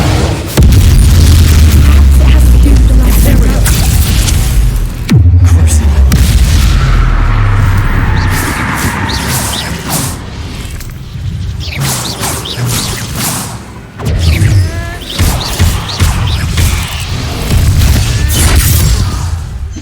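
Repeated Bombarda spell explosions in the Hogwarts Legacy video game, deep booming blasts and whooshing rumbles that recur over a loud, sustained wash of battle effects.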